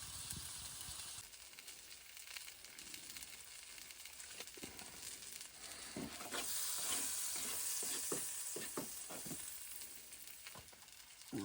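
Eggs frying on a titanium wood stove inside a hot tent sizzle steadily, with scraping and stirring clicks from a utensil breaking in now and then, close and fairly quiet, with no voices.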